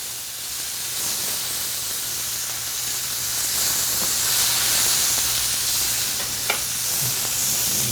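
A steak sears in a hot pan with a constant, close crackling sizzle, a single sharp pop cutting through near the end.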